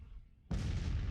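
In the Civil War strategy game Grand Tactician, a cannon blast from an artillery battery bursts in suddenly after a quiet moment, a heavy booming report that lingers as a rumbling wash.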